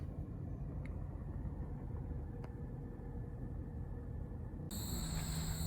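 Suzuki Kizashi car engine running at idle, a low steady rumble heard from nearby, quiet and even, with a couple of faint clicks and a brief high tone near the end.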